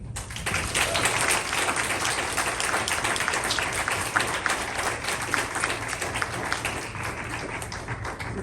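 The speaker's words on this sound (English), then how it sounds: "Let's give Christy another round of applause." Audience applause at a community event, steady moderate clapping from a crowd that carries on evenly throughout without voices.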